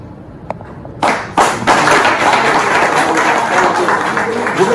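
Applause breaks out for a mayor at a public gathering in Bangolo, a sharp burst of clapping that swells into sustained, dense crowd applause with a few claps and taps before it.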